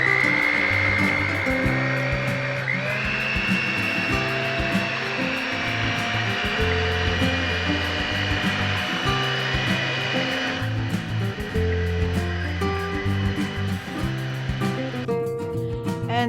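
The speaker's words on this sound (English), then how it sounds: "with our electric hand mixer, we're going to mix this for 5 minutes" An electric hand mixer whirs continuously through a blueberry ice cream base, a loud steady motor whine whose pitch shifts early on and later drops slightly, running without any speech.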